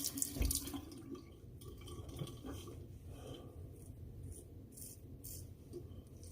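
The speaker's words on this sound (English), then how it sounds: "rinse the razor off" A double-edged razor rinsed under a running tap at a sink, a continuous soft splashing flow with small clinks and drips, close but quiet.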